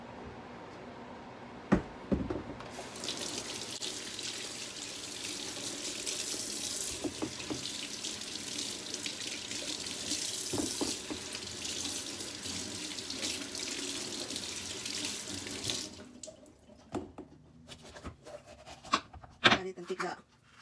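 Kitchen tap running over bell peppers being washed in a sink, a steady splashing stream that starts after a couple of seconds and stops near the end, followed by light handling clatter.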